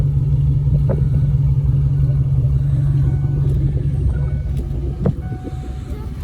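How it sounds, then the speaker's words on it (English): A 1996 Ford Mustang GT's exhaust drones with a steady, low engine rumble throughout, with faint clatter and shifts in the idle, heard close and continuous without talk. "Did I mention I love the sound of that exhaust?"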